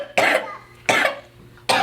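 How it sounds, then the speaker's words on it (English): Three separate coughs, each a short harsh burst, spaced evenly about three-quarters of a second apart, close and fairly loud. "That is a cough."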